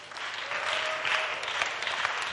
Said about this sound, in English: You should clap for him.